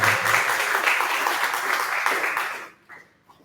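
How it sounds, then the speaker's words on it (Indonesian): A classroom group claps for a student, a dense burst of applause lasting a few seconds before thinning out and stopping, with a few scattered claps trailing at the end. "Tepuk tangan untuk Savandra."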